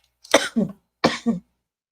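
Two short, sharp coughs about a second apart, close and fairly loud, with silence around them.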